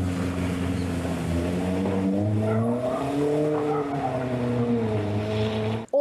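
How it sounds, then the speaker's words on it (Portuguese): Vehicles accelerate through deep mud on an unpaved road, a loud, sustained engine roar that rises and falls in pitch as the revs climb, close by and continuous. "É assim que os veículos conseguem passar por ali, acelerando e se arriscando com manobras perigosas ou desviando dos pontos com"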